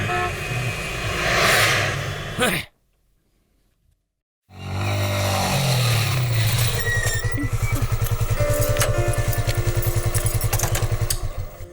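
A motorcycle riding fast: after a noisy stretch and a brief silence, a loud, steady engine roar with a rapid pulsing rhythm builds and holds close by.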